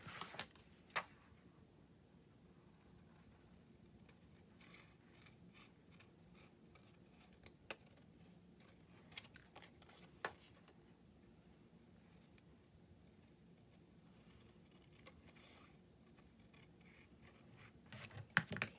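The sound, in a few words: scissors cutting sturdy thick paper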